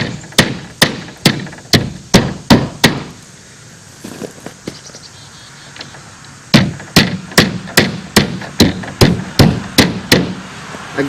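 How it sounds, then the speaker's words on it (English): Repeated sharp hammer blows drive nails to fasten siding in place, landing in steady quick runs with a short pause midway, close and loud. "Now I just start nailing it in place."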